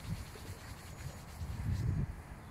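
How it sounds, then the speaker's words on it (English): Brushes rubbed vigorously across a person's back during a chair massage, a close, soft, continuous scratchy swishing that swells slightly toward the end, with no talk. "make sure your brushes are very vigorous. Kind of rub their back a little bit."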